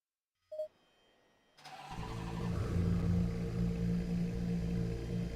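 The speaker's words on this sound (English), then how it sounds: "never get tired of listening to them cars screaming" A video game race car engine, a Lexus RC F or Porsche 992 GT3 R at Monza, cranks and starts, then settles into a steady, loud rumbling run, heard alone without voices.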